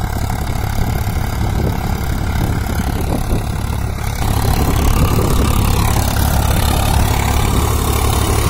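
A Swaraj 744 XT tractor engine runs steadily at around 1100–1200 RPM, a loud, continuous low rumble throughout with a slight rise in intensity midway.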